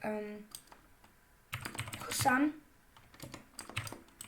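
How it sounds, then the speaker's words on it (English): Typing on a computer keyboard into a notepad, with a loose cluster of quick keystroke clicks, close and moderately loud, as a voice speaks briefly at the start and in the middle. "I'm just going to write them in my notepad."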